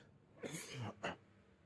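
A quiet cough or throat clearing from an unwell speaker: two short rough bursts, the first longer, alone against faint room noise.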